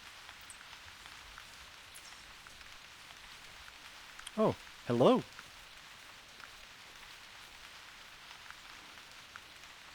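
Steady soft rainfall patters as a constant background hiss in a hunting video game, theHunter Classic, while a voice briefly speaks over it midway.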